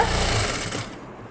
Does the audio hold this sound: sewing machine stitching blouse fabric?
yes